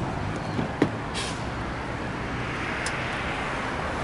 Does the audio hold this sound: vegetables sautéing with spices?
no